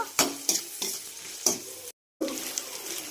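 Gongura egg curry being stirred in a frying pan, a spoon scraping through the mix several times over a steady close sizzle, with a brief silent gap partway through.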